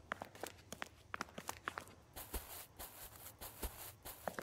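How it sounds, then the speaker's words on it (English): Footstep effects in a first-person video game, a steady run of soft, distinct steps that change in character partway through as the walking surface changes, moderately close with no talk. "I also added footsteps, sound effects."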